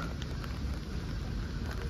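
Steady rain pours down beside Lake Molveno in Italy, a dense, continuous hiss with no pauses, fairly close and uniform, no voices over it.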